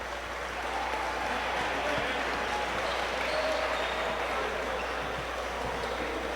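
Steady crowd applause fills a college men's basketball gym, loud and sustained throughout, with an announcer's voice faintly mixed in beneath the clapping.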